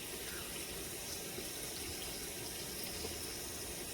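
Tap water runs steadily into a sink while someone washes their face, a continuous close splashing rush with no break.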